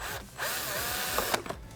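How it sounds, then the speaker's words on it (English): A power drill with a 1/8 inch bit bores pilot holes into a bracket for a 2017+ Honda Grom undertail install, whining loudly and steadily up close and changing tone as the bit bites. "I'm going to drill 2 pilot holes. I'm using a 1/8 inch drill bit."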